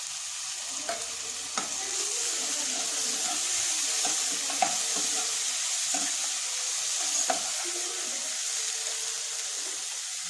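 Chopped tomatoes tipped into a pan of jackfruit curry sizzle and fry steadily, with occasional stirring clinks and scrapes over the continuous hiss.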